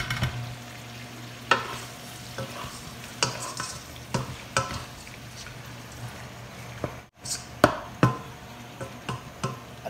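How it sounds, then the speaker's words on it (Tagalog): Chicken adobo fries in a pan under a steady sizzle while a utensil scrapes and knocks against the metal in irregular strokes, loud and close. "Haluin ko lang siya uli."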